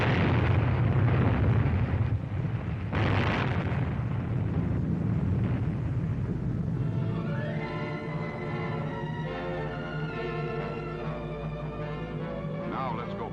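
An atomic bomb test explosion from above-ground weapons testing in Nevada or New Mexico gives a loud sustained rumbling roar with a couple of sharp bursts early on, then fades into a lower rumble under a droning musical tone.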